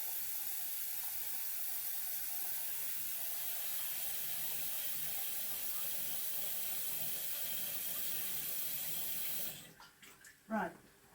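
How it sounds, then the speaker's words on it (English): Water runs steadily from a kitchen tap into a kettle, a continuous hissing rush that fills most of the moment before cutting off near the end, followed by a couple of brief clunks. "I'm going to have to fill the kettle up again in a minute. Actually, I'll do it now"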